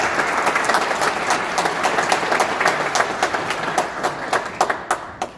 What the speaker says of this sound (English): Let's give New York City a round of applause.